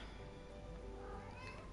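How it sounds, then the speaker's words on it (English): A pet cat meows softly indoors, a faint, drawn-out cry over low room hiss, with no one talking. "That's my cat, sorry."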